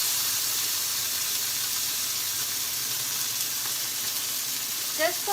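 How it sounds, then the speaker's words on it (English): Marinated elk steaks searing in a cast iron skillet, a loud steady sizzle and hiss close by that runs the whole time, with a brief voice near the end. "transfer our elk steaks that are marinated onto the cast iron skillet, and I'm going to sear them"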